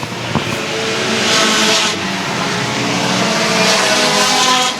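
Pure Stocks race cars on a dirt oval at a season-closing feature roar past, a sustained loud engine drone that swells and fades as cars pass, with crowd and track ambience behind.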